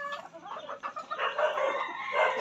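A Sweater gamefowl stag clucks in short bursts that run into a drawn-out, crowing-like call, close and fairly clear, with no one talking.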